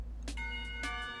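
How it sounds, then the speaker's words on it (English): A school bell in the Katawa Shoujo visual novel rings in a few bright, sustained chime strikes with ringing harmonics over a low background hum, fairly quiet and with no voices. "The ringing of the bell ends our conversation."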